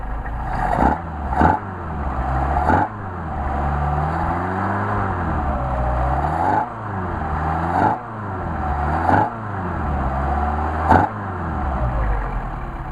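Engine fitted with Charles Solex carburetors revs up in several sharp bursts, then drops back to a steady, close idle, with no talk over it.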